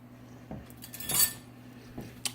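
A spoon scooping ranch sauce makes a few quiet, light metallic clinks and scrapes, spaced out over a couple of seconds against a faint hum.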